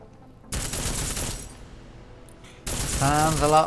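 Two loud bursts of unsilenced gunfire in Deus Ex Mankind Divided, each a sudden rattling volley separated by a brief quiet gap, the second joined by a tonal voice-like sound.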